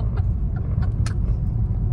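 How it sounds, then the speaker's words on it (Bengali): A car driven by a father on the road to Shankarpur near Digha gives off a steady low engine and road rumble. Faint voices and small clicks sit over the drone. "পাপা গাড়ি চালা করছিল"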